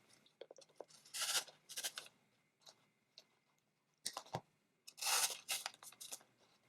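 Scissors snip through the leaves of Dollar Tree artificial daisies in a handful of close, crisp cuts and rustling crunches, separated by short pauses.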